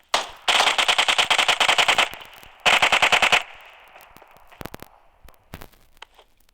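Automatic gunfire rips out from a UMP and similar weapons during a shooter video game, with two long, loud rapid bursts followed by a few scattered single shots and short cracks. Nobody speaks.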